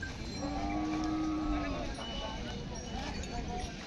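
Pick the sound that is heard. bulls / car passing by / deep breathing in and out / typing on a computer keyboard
bulls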